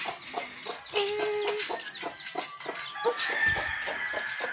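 Several chickens cluck continuously in short, repeated calls, fairly close, with an occasional higher squawk and light rustling.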